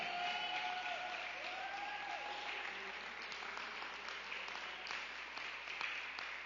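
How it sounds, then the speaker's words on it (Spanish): A church congregation applauding, a sustained even roar of clapping from a crowd, fairly distant and soft, with no talking over it. "¿Por qué no le da un aplauso al Señor?"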